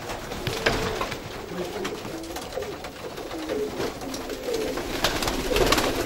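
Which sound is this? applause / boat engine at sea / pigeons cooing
pigeons cooing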